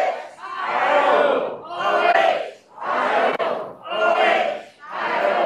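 Crowd chanting the Ohio State Buckeyes O-H-I-O call, two groups trading loud, drawn-out shouts in a steady back-and-forth rhythm of five bursts separated by brief pauses.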